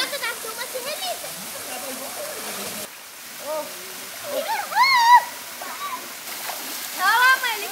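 The Pio waterfall in Canelinha, Santa Catarina, Brazil, gives a constant rushing wash of falling water beneath people talking and calling out over it.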